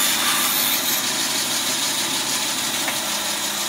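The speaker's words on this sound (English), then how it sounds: "And then I have to curve underside, which I clean up on a sander." A power sander runs steadily and loud, grinding across the curved underside of a wooden brace jig, a continuous rough whir with no break or voices.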